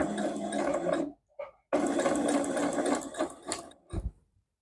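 A sewing machine stitches curtain fabric in long steady runs, stopping briefly between bursts and ending with a couple of short stitches, close and fairly loud, with no voices.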